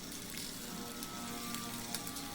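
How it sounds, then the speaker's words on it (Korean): Meat laid skin-side down sizzles with chunks of garlic in its own rendered fat in a hot pan over medium heat, giving a soft, even crackle and hiss that stays faint and constant. "너무 센 불에서 구우면 고기가 타니까 중간 불 정도에서 구워주시고, 이 고기 자체에서 나온 기름에 마늘도 함께 구워줄 거예요"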